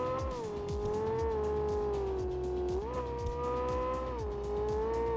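Racing cars in the video game Drive Zone Online, with a tuned Toyota Trueno among them: a loud, continuous engine whine that rises and falls through gear changes, layered with other engine drone, and no talking.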